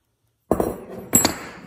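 A small metal jeweler's anvil handled and set down, giving two close, sharp metallic knocks with a short ringing tail, about half a second apart.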